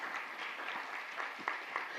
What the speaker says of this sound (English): Let's clap it up for Dr.